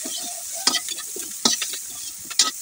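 Onions sauté in oil in a pan for sinigang-style bangus, a continuous close sizzle broken by three sharp bursts of stirring and scraping at irregular intervals.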